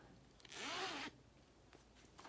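One quick zipper pull on a fabric bag, a bright rasping zip lasting about half a second, close and clear in an otherwise quiet room.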